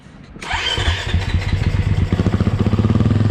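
A KTM 350 EXC-F dirt bike engine cranks and catches, then revs into a rapid, throaty idle, loud and close.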